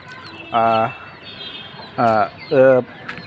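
Brooding hens on a poultry farm give three short harmonic clucks, one alone and then a quick pair, close and clear against low background noise.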